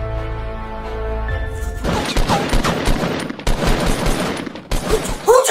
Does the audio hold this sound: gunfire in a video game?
yes